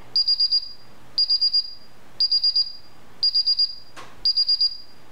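A Paradox wired alarm system sounding during its entry delay: loud, repeated high electronic beeps in groups of four, about one group per second, with no talk over them.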